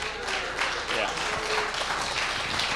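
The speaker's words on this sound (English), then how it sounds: "Is that applause for the gong?" An audience applauds at a tech meetup presentation, the clapping dense and continuous at a moderate level, with a few faint voices blending into it.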